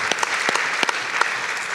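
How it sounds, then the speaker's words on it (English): Applause from a climate summit audience for panelists, a thick bed of clapping with a few sharper individual claps standing out near the front. "they deserve a round of applause"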